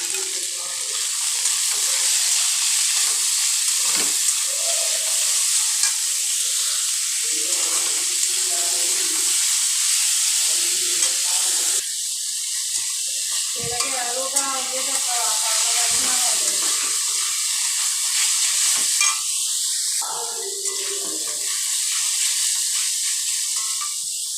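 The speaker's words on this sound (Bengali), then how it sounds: "দিয়ে ভালোভাবে নেড়ে চেড়ে ভেজে নেব।" Vegetables for egg chowmein sizzle and hiss steadily in a hot pan, with scraping and clattering as they are stirred and tossed, plus brief bursts of water-like splashing.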